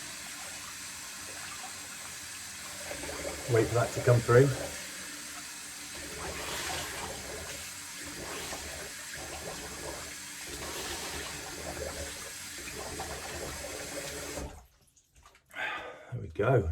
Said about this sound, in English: Let's rinse off with a little cold water.